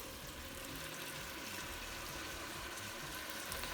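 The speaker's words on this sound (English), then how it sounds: "We're gonna add some water." Hot water pours into a pot of vegan cabbage soup, making a steady, soft splashing rush that stays even throughout, with no talking.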